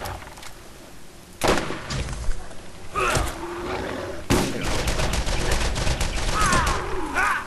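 Pistol fire in Borderlands, several loud close shots and bursts going off in quick succession across a few seconds, mixed with creature roars and other game noise.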